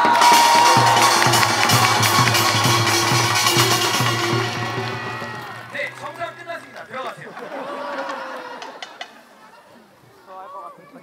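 A crowd at a Korean folk village full moon festival bursts into loud applause and cheering, which fades after a few seconds into chatter, laughter and someone speaking.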